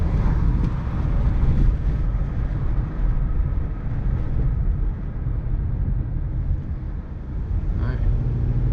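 A car drives at around 40 to 45 mph and brakes gently to bed in newly replaced brakes and rotors, giving a loud, steady rumble of road and wind noise throughout.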